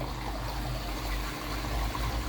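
Water bubbles and trickles steadily in a garden pond after pump trouble, a continuous close liquid burble with no voices.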